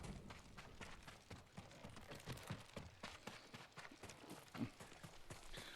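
A big black horse galloping in the video game Ghost of Tsushima: quick, rhythmic hoofbeats drumming steadily throughout, faint and close, with no talking.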